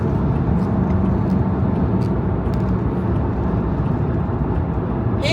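Road traffic rumbles loudly and steadily from inside a moving vehicle, a dense continuous road and engine roar with a fast black truck somewhere nearby.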